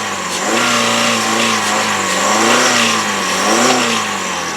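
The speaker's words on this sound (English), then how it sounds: "revving it up to the rev limiter, there's no high rev knocks" A 2.4-litre four-cylinder multi-valve engine in a 2003 Chrysler PT Cruiser revs repeatedly toward the rev limiter, rising and falling in pitch with each throttle blip, loud and close with a steady idle hum between.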